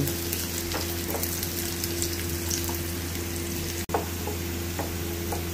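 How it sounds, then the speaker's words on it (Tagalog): Garlic and onion sauté in a pan for ginisang monggo, giving a continuous soft sizzle with occasional stirring clicks over a constant low background hum. "sinisimula na po natin mga kaibigan yung ating pagigisa ng ating bawang at sibuyas"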